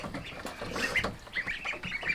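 Several ducks quacking and chattering close by, overlapping calls in a busy, continuous flock.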